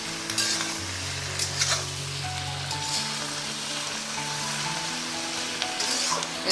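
Prawns fried in a pan for jhinge chingri posto, a soft continuous sizzle of hot oil with occasional light stirring taps, fairly quiet and steady throughout.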